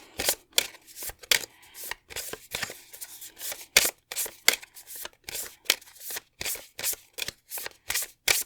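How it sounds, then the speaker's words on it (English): Rapid, crisp bursts of tarot cards being shuffled, riffling in quick repeated runs with short pauses between them, close and fairly quiet. "just going to shuffle these 4 cards"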